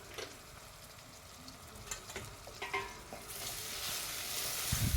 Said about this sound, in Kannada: ಟೊಮೆಟೊನ ಸ್ವಲ್ಪ ಡೀಪ್ ಫ್ರೈ ಮಾಡ್ಕೊಳ್ಳಿ